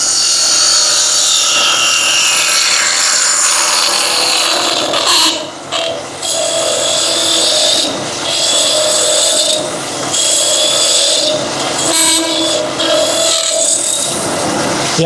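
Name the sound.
threading jig cutting a thread into wood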